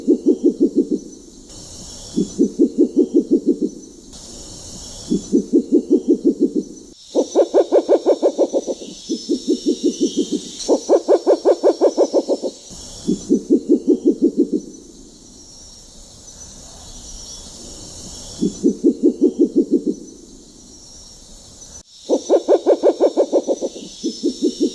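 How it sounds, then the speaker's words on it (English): A spectacled owl hoots in repeated bursts of rapid, low, knocking pulses, each lasting about a second, with short pauses between, clear and fairly close against quiet background insects. "the sound of the spectacled owl is more widely known than the bird itself"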